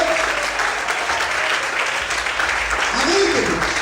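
A church congregation applauding during an evening sermon: steady, dense clapping from a large crowd filling the room, with a voice briefly audible over it near the end.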